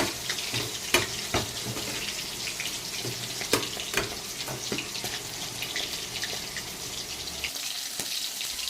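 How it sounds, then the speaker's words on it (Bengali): A few dried red chillies fry lightly in a pan, giving a steady soft sizzle with scattered clicks and pops from stirring, and no voices. "এরপরে দিয়ে দেবেন 2-4টে শুকনো লঙ্কা। একদম হালকা করে আমি ভেজে নেব।"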